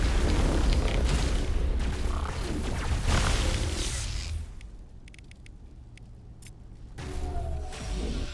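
Grenade explosions in Mass Effect Legendary Edition: several seconds of loud, rumbling blasts that fade to a quieter lull, then a fresh swell of noise near the end.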